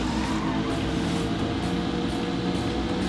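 A steady, loud car engine roar in the racing video game Need for Speed Carbon drones without pause, a constant mechanical hum with no breaks or gear changes.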